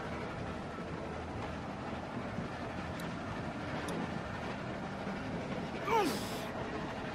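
Train cars rumble steadily along the tracks in The Walking Dead game, a low continuous rolling noise with a brief squeal near the end and no talk.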